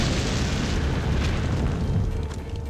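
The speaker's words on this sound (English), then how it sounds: "the explosion roared in his ear" A sustained roaring explosion sound effect rumbles loudly and steadily throughout, heavy in the low end, with no speech over it.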